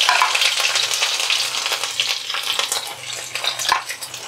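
Crushed garlic and two dried red chilies with five-spice seeds sizzle loudly in hot oil in a pan, a steady close-up crackling fry with occasional stirring and no voices.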